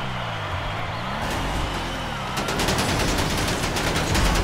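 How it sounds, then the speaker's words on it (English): Machine gun fire in GTA 5 Online near a vehicle: fast, rattling automatic bursts over engine rumble, getting denser partway through, fairly close. "Keep an eye on those machine guns."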